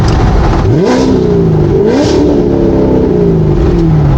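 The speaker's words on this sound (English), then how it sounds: "Let's try some revs." A supercharged Corvette Z06 engine revs up sharply twice, its pitch climbing and falling back, loud and close with a steady mechanical roar throughout.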